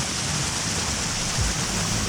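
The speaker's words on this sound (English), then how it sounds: "It's actually like a pretty good waterfall." Water pours over McKenzie Brook Falls near Truro, Nova Scotia, a steady, broad rushing roar that is close and fairly loud, with no break and no voices.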